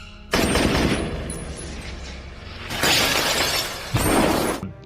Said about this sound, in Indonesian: Mereka pun melepaskan tembakan secara beruntun.